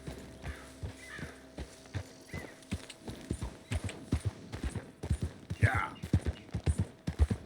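A Tennessee Walker horse in Red Dead Redemption 2 walks with steady clip-clop hoofbeats, close and rhythmic throughout, over faint outdoor ambience, with a short spoken word from a man partway through.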